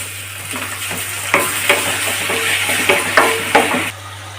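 Onion, okra and tomato sauté with salt in a pan, a steady close sizzle broken by repeated sharp scrapes and clinks of a spatula stirring against the metal, over a low constant hum.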